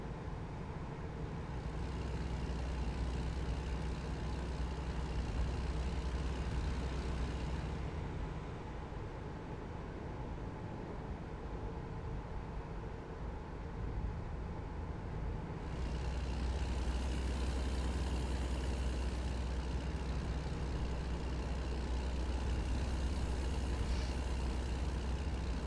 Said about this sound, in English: You just get mesmerized by the sound of the engine and just the rolling down the road.